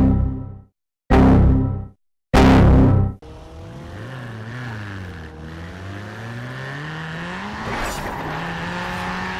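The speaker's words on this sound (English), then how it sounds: "I'm actually really enjoying driving the Puma Racing in the city centre." A Ford Racing Puma drives through a city centre. A few loud, abrupt engine bursts separated by brief gaps give way to a steady engine note that rises and falls with the revs, with a sharp squeal-like burst near the end.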